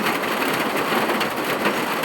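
Steady rain falls outdoors, a dense, even hiss close by and fairly loud, with no talking over it.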